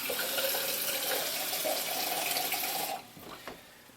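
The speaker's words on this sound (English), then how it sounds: "I want to put some water in there" Water for soap-making lye runs steadily into a container for about three seconds, close and splashy, then stops, leaving a few faint drips and clinks.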